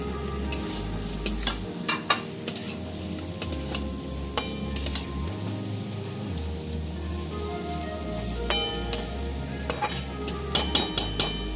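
Katla fish pieces go into sizzling masala in a pan, bringing steady frying crackle along with repeated sharp clinks and scrapes of the spatula against the metal.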